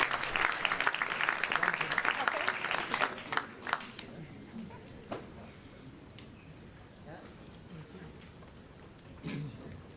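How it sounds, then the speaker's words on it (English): Audience applause at a World Bank conference on the Africa region, loud and dense clapping for the first four seconds, then fading to scattered claps and room murmur. "Please, let's give him a warm round of applause as he joins us."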